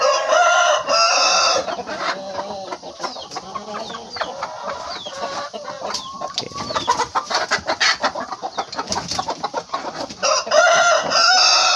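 Free-range village chickens cluck in quick bursts close by while a rooster crows loudly, the flock noise rising and falling throughout.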